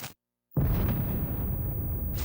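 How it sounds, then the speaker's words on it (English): Nuclear bomb detonations in the Black Ops Cold War campaign: after a moment of silence, a loud, deep roaring blast swells up and rumbles on steadily with no speech. "How many green light nukes did he detonate?"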